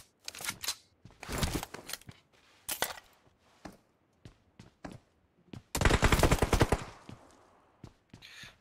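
Shotgun gunfire in an online shooter game, loud sharp blasts and rapid bursts in irregular clusters with short pauses, plus a long volley near the end.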